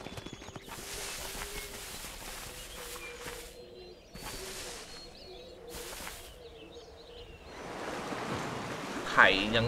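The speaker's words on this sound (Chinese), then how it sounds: "海洋的声音。" Ocean waves wash and surge in the naval battles of the strategy game Empire: Total War, a steady soft roar that swells louder near the end, with scattered clicks and game effects over it.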